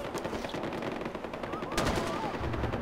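Rapid automatic gunfire from the video game Far Cry 4 rattles in a dense, continuous burst over game ambience, fairly loud and with no talk over it.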